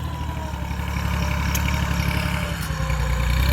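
Kubota L2201 farm tractor's diesel engine running at a steady idle, a close, loud chugging rumble with a regular low pulse that continues unbroken for a few seconds.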